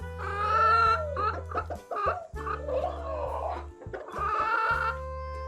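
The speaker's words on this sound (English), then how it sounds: "Chicken." A chicken clucks and squawks in a run of throaty, choppy calls, close and fairly loud, with no talk over it.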